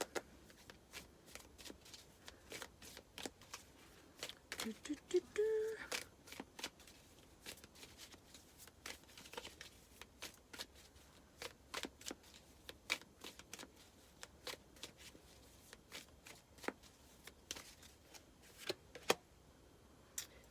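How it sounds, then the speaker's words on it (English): Light Seer Tarot and Oracle cards are shuffled at close range, a steady stream of sharp riffling snaps and soft slides running continuously with no talking. "I'm going to use the Light Seer Tarot and some Oracle cards"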